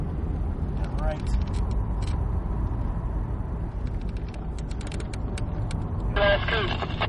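A Cadillac CTS-V Coupe accelerates out of a corner on a race track, its engine a loud, steady low drone heard from inside the cabin throughout, with a person talking over it and brief chirps near the end.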